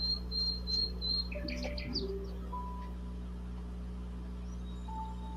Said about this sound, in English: She's got attracted by the birds singing.